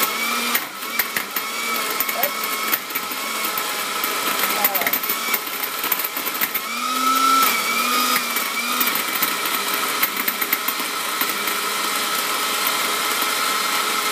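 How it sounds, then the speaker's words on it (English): A vintage Osterizer blender makes a smoothie, its steady motor whine running continuously at moderate level, with a brief rise in pitch midway. "let's see what happens here with my old Osterizer blender"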